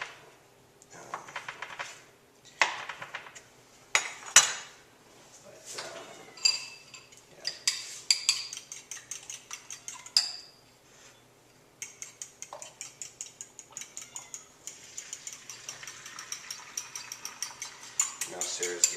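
Faint kitchen sounds while an omelet is made with an iron skillet: utensils clinking and scraping against dishes, irregular taps and stirring, then a quick rhythmic whisking-like clatter, all quiet and close.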